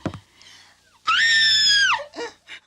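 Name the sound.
woman screaming in a played clip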